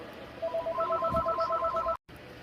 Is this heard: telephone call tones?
yes